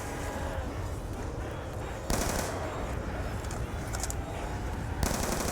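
Rapid automatic gunfire rattles continuously in the Black Ops 2 Nuketown Zombies video game, loud and dense throughout, with sharper bursts of shots breaking in around the middle and near the end.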